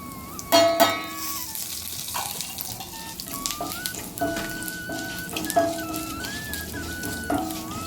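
Mustard seeds, fenugreek, urad dal and asafoetida frying in hot oil, with a steady sizzle broken by sharp stirring clatters and bursts of spattering at close range.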